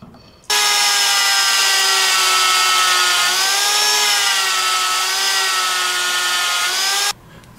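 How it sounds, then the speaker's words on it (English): A VEVOR D8840 magnetic drill with sliding head and variable speed bores a 7/16-inch hole in metal, a steady loud whining motor drone with a rising tonal pitch that starts abruptly, holds for about six and a half seconds, then cuts off. "I'm going to drill 7/16 hole in this metal."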